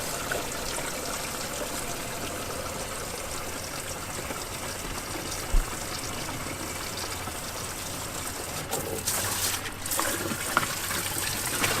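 A rinsing hose runs water into a caravan toilet cassette, a steady close trickle and splash that carries on throughout, rising to a fuller gush near the end.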